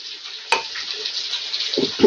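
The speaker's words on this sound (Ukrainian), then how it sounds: "То в мене на фоні там сосиска смажиться." A sausage sizzles steadily in a hot pan, a soft crackling hiss with a sharp clink and a couple of stirring scrapes.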